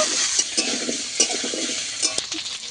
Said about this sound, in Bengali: আদা বাটা দিয়ে কচু আর আলু একসঙ্গে দিয়ে দেবো। এবারে ভালো করে কষিয়ে নেব।